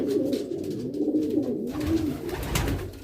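Homing pigeons coo steadily at close range, a low throaty rolling call repeated continuously as a male courts a female during pairing.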